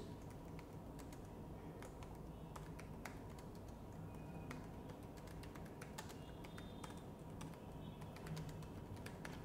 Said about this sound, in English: in this error alert I'll just type my own message